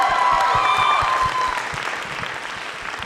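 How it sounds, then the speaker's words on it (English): Audience applause for Christine's performance at a Chinese New Year showcase, a full crowd clapping loudly and thinning slightly over about three seconds, with no voices over it. "Let's give Christine another big round of applause."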